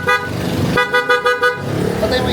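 A stainless aftermarket horn on a Honda ADV 160 scooter blares in several short loud honks close by, with a sustained blast before the toots.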